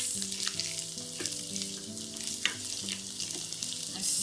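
Sliced capsicum stir-fried over a high flame, a close, dense sizzle with bursts of crackle as the pieces are tossed, while a low steady hum runs underneath.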